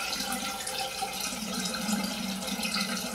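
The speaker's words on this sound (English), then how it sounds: "Let me throw some cold water on it really quick" Cold tap water running into a sink during a shave, a steady close splashing stream with no break.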